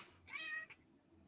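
A single short meow from a cat rings out close by, rising and falling in pitch, followed by a brief chirp against quiet room noise.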